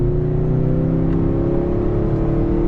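A 2024 Acura TLX A-Spec on all-season tires accelerating out of a turn, its engine a steady, loud drone with rising harmonic tones under a continuous road and wind whir, heard from inside the cabin with no talking.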